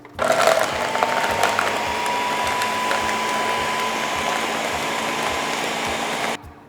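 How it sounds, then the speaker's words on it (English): Countertop blender blending kale, a loud steady whirring motor roar with a faint rising whine, starting abruptly and running evenly for about six seconds before cutting off. "Now we have our blender on here and our lid is nice and secure, and we'll go ahead and hit blend."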